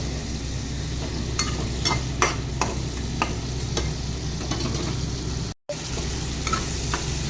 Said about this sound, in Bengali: শুকনো মাছ আর পেঁয়াজটাকে ভালো করে কষিয়ে নিয়েছি